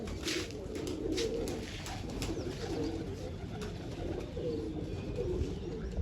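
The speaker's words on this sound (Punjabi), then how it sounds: "ਸਾਰੇ ਕਬੂਤਰਾਂ ਦਾਣਾ ਪਾਣੀ ਚੁਗੀ ਜਾਂਦੇ ਆ ਫਿਰ ਪਾਣੀ ਪੀ ਜਾਂਦੇ ਆ" Pigeons coo steadily and continuously while feeding on grain and water, a dense layered murmur of soft cooing close by with no talking over it.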